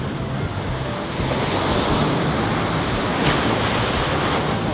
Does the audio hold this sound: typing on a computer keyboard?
no